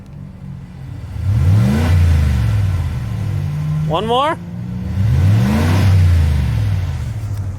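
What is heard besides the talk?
straight-piped pickup truck engine revving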